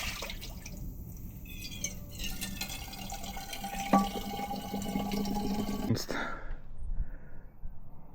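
Water bottle filling from a tap on a roadside stop during a Burgas to Istanbul trip, splashing and trickling with drips and a rising fill, quiet and close, with a voice speaking over it.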